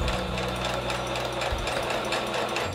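A sewing machine runs steadily while stitching a pocket seam on doll clothes, a close continuous mechanical whir with a brief change in pitch midway as the stitching slows before carrying on.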